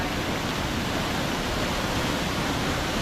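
Steady, dense roar of Bulawan Falls, a waterfall with clear water, pouring continuously at close range, loud and unbroken with no voices over it.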